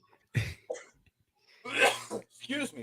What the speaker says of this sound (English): I'm coughing on my own breath right now here.